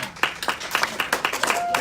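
Brief burst of audience clapping and applause at a talk, a dense patter of hands close by with a few sharper individual claps standing out.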